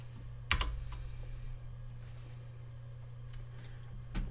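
Numbers entered on a computer keyboard, a few scattered quiet key clicks over a steady low electrical hum, close and faint.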